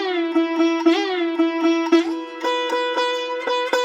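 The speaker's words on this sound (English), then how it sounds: "I thought we could use maybe like a Middle Eastern sounding like sitar loop" Middle Eastern sitar loop sample, bright twangy plucked strings with bending notes and a droning resonance, repeating short melodic phrases loudly and alone.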